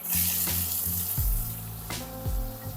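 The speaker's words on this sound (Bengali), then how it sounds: "এই অবস্থায় আমি পেঁয়াজ কুচোগুলো দিয়ে দিচ্ছি" Chopped onions go into hot oil already fragrant with dried red chillies and cinnamon, giving a loud, close, continuous sizzle with clattering thuds of the onions and a spoon against the pan; no talk.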